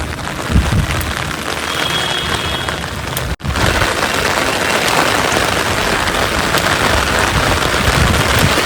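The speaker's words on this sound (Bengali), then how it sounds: "দেখো ভালোই বৃষ্টি হচ্ছে ছাতা না আনলে পুরো ভিজে যেতাম" Steady, fairly loud rain pours down close by as a dense, continuous hiss, broken only by a momentary dropout partway through.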